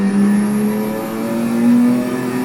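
Porsche 962C racing car engine in Assetto Corsa on the Nordschleife, a loud, steady high-revving drone that rises in pitch as it accelerates, heard alone and close throughout.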